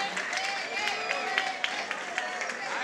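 A crowd at a club anniversary party applauds with dense, steady clapping and some cheering, sustained and moderately loud throughout.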